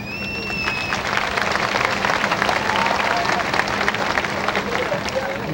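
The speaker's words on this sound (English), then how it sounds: "That was a nice round of applause you just got, Zip." Audience applause greeting a chimp act at a 1978 variety revue, a steady crowd clatter with a few whistles near the start, continuing throughout with voices mixed in.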